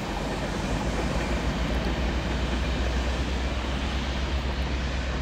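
Freight train locomotives rumbling past on the Osage Sub, a steady loud roar with deep low drone and broad noise holding constant throughout, no talking.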